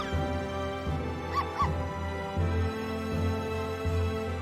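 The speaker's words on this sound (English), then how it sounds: "Dog." Short dog yips and whimpers from the game Professor Layton vs Phoenix Wright, a few quick high calls over a sustained musical background.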